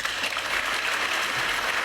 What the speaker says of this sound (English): Who are these people clapping?